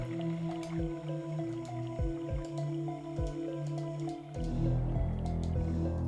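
Water dripping in the video game King's Field III, a steady run of distinct drops over a low ambient hum with music tones, ending in a louder burst of trickling liquid.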